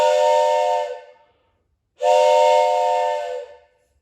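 A toy train whistle is blown twice, each loud, steady, multi-toned blast lasting one to two seconds and separated by a short silence.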